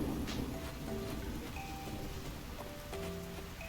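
Steady rain patters continuously in a farming video game, a dense, even hiss filling the scene at moderate volume with a few soft melodic game tones drifting over it and no voices.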